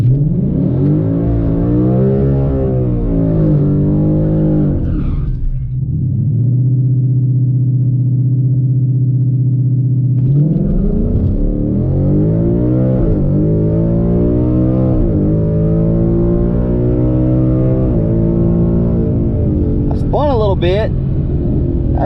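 A 2020 Ford Mustang GT with its Coyote V8 makes a drag strip pass, the loud engine revving hard through rising gear sweeps with shifts and a steady high roar in between, close and continuous.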